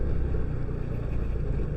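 An underbone motorcycle rides a bumpy road between Bogor and Sukabumi, giving a loud, steady rumble mixed with wind buffeting on the microphone, with no voices present.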